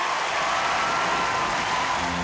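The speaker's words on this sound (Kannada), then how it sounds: "ಚಪ್ಪಾಳೆ!" A cartoon audience at an air show breaks into steady applause, a continuous wash of clapping that stays even and fairly loud throughout, with no voices.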